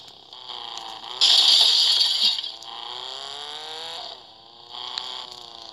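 A car engine in the Gangstar video game hums and revs with rising, falling pitch, a louder rasping scrape surging briefly in the middle before the motor settles back to a steady drone.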